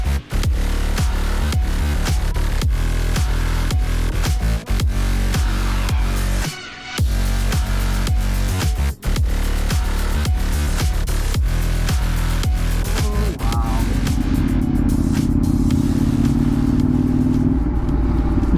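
KTM 790 Duke motorcycle with an SC Project S1 exhaust on a dyno, loud engine revving with repeated gear-shift dips, then a settled high roar.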